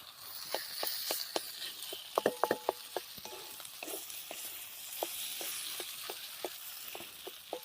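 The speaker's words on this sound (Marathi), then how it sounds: "सगळा मसाला भाजत आला आपण यात बटाटे घालून चांगलं एकजीव करणार" Masala with ginger-garlic paste fries in a pan as potatoes are added, a steady close sizzle broken by sharp scattered ticks and stirring scrapes, with no talk.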